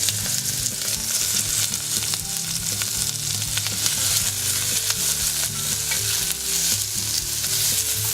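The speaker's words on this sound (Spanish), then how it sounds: "En un poco de aceite ponemos unos ajos a dorar y unos trozos de cebolla." Garlic cloves and onion pieces frying in a little oil, giving a dense, continuous sizzle with constant crackle and occasional stirring scrapes, loud and close throughout with no talk.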